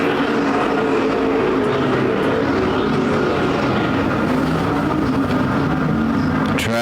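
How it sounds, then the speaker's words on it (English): Super Stock race cars roar around a slightly slippery dirt oval at Perris Auto Speedway, a loud continuous engine drone swelling and fading as the pack passes, with no voices over it. "Final Super Stock Race of the year underway right now."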